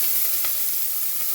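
Bay leaf, whole spices, green chilli, onion and tomato fry in ghee for a village-style pulao, giving a close, even, continuous sizzling hiss with no voices.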